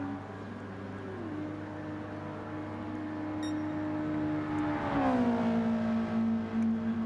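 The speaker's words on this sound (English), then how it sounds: "Just listening to the engine tone." A Toyota race car engine drones steadily on the Grand Valley circuit. Its pitch dips and then climbs again twice as gears change, and the fairly faint, continuous engine tone plays alone.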